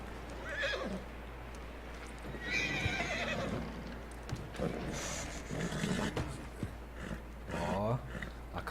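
Horse whinnies and neighs repeatedly in Red Dead Redemption 2 gameplay, with clip-clop hoofbeats and game sounds mixed in, moderately loud and close, with talk in between.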